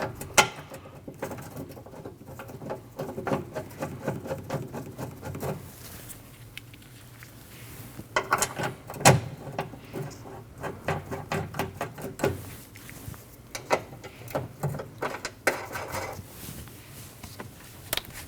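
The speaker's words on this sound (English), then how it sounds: "Take your latch, fish it through the top and out through the hole. Install your 3 Torx screws." Torx screws being driven into a liftgate latch on a 2013-2019 Ford Escape, heard as irregular close-up clicks, taps and small mechanical rattles continuing in bursts throughout.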